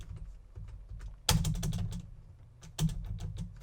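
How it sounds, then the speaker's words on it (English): Computer keyboard typing, a fast run of light, close key clicks with two louder bursts of hard keystrokes, like hurried bashing on the keys. "Keyboard bashing."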